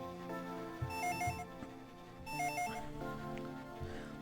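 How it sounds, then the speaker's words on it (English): A telephone rings in a living room in the video game Legacy of Goku 2, two bursts of a chiptune-style electronic ring over quiet background game music. "The phone is ringing in the living room."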